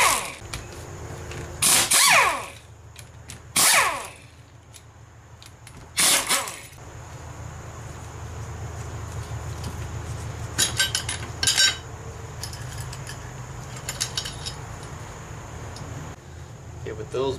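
Small tools clink and scrape on metal while a clock gearbox cover is taken off and its 10 mm bolts are removed, heard as sharp bursts near 2, 4 and 6 seconds and lighter taps later over a low steady hum.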